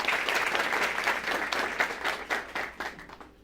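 An audience at a televised panel discussion applauds, with a dense burst of clapping that holds steady and then thins into scattered claps as it fades out.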